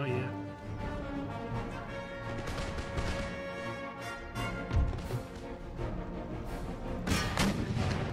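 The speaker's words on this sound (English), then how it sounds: "Get all my artillery just to engage their artillery positions" Cannon and artillery fire in the video game Empire: Total War, repeated booming shots and impacts spread across a battlefield, steady irregular thuds beneath ambient battle noise and music.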